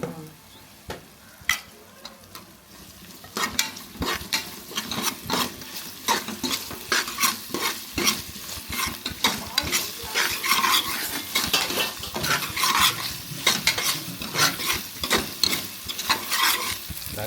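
Ginger-garlic paste sizzles and fries in a hot pan, with steady crackling and repeated scrapes of a spoon or spatula stirring it close up, growing busier after the first few seconds.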